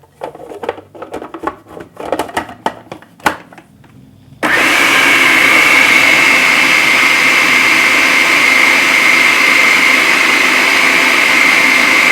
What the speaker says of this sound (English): I'm going to put it right in the food processor